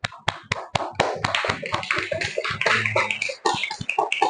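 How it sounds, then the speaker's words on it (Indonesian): Children in a classroom clap their hands in a brisk burst of sharp, close slaps, uneven and overlapping, with a few louder single claps standing out. "Betul ya, tepuk tangan dulu."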